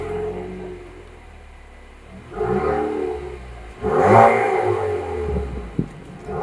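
A Chevrolet Camaro engine rises in two revving surges while driving on an island road, the second louder, with a whirring undertone between them and no voices.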